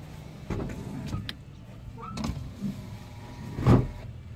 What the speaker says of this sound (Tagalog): So power window ang kanyang second door.